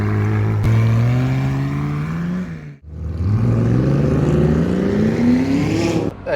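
A McLaren 600LT Spider with its roof off revs hard, engine pitch climbing steadily through one gear, a brief dip at a shift, then rising again, loud and close from the cabin.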